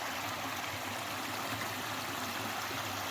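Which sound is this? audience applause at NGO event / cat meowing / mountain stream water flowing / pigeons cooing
mountain stream water flowing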